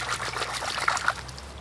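A freshly cleaned trout is rinsed in river water, with close trickling, dribbling and small splashes over a faint low background.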